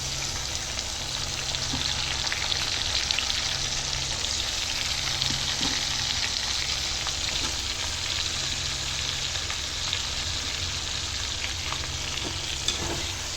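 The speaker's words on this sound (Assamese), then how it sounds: "বিলাহীখিনি ভালদৰে ভাজি ল'ম" Chopped tomatoes fry in hot oil in a pan on top of onions already browned. They give off a steady, dense sizzle with occasional stirring scrapes. It runs unbroken and close, with no talk.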